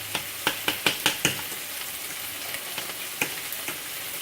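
Chicken sizzles steadily in a hot cast iron pan, punctuated by a quick series of sharp metallic taps and scrapes, then occasional single clicks.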